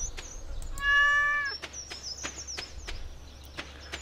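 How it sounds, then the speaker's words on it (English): A cat in the farming video game Stardew Valley gives one clear, drawn-out meow, surrounded by crisp tapping and chopping clicks of farm work. "There's a kitty cat."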